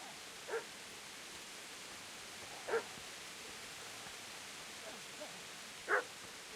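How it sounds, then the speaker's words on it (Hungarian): A dog barks in the medieval game Kingdom Come: Deliverance. A few short, sharp barks come at scattered intervals, fairly distant over a quiet, hissy outdoor ambience. "Valaki ugat itt."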